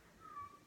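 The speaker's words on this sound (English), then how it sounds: "there she goes meowing" A pet cat gives a single short, faint meow indoors, with no voice and little else around it.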